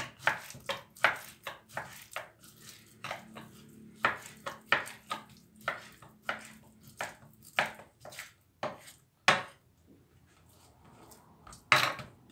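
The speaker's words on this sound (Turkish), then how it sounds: "tavuklarımı doğramaya devam ediyorum" A knife chops chicken into small pieces on a cutting board for a chicken mushroom sauté, sharp close thuds in an irregular rhythm of quick bursts and pauses.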